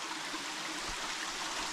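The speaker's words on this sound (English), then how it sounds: "Nice water running right there." Water from a small stream runs steadily beside a hiking trail in Alabama, a soft, continuous rushing and trickling heard faintly from nearby.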